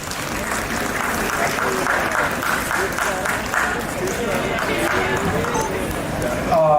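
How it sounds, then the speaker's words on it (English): Sustained applause from an audience at a school convocation ceremony, steady and dense throughout, with a crowd murmur and faint voices underneath as a guest is welcomed on stage. "Give a huge round of applause."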